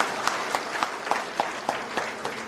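Audience applause at a Mutharaiyar community meeting, a crowd clapping in a loose rhythmic pattern with regular louder bursts, sustained and fairly near, with a voice faintly underneath.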